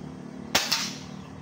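A PCP air rifle, the N.V.A.S. Commander Gen2, fires a single sharp, loud crack, followed by a short second report, against a quiet background.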